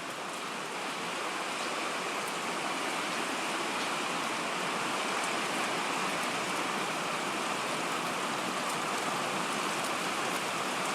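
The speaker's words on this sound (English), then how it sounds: "I'm going to step out in the rain for a second" Steady rain falls outdoors on a wet Saturday afternoon in Washington, near a flooding creek and an overflowing pond, a dense, even hiss that stays constant throughout with no voices.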